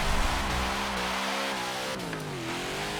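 Engine launching and revving hard in the Forza Horizon racing game, a loud steady roar whose pitch climbs and shifts through gear changes over a few seconds, with no talking.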